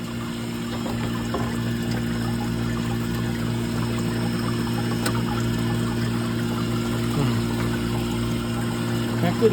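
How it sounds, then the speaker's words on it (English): Water circulates through the pump of a commercial ice machine, a steady close pouring and trickling stream over a constant mechanical hum, with no one speaking over it. "Got good water flow."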